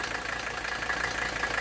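A Mercedes W126 300SD's OM617 diesel engine idles just after a cold start, a steady, fairly faint mechanical drone with a faint whining tone running through it and no speech.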